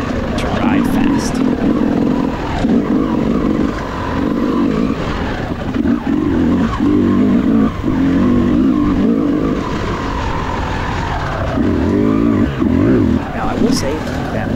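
A Yamaha YZ250X two-stroke dirt bike engine drones continuously through a harescramble race, rising and falling as the rider works the throttle up a hill, loud and close throughout with a voice talking over it.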